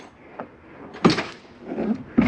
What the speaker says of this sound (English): Your short door, like I said, just folds down here.